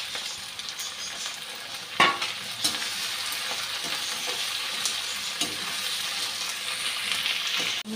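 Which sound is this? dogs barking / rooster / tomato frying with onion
tomato frying with onion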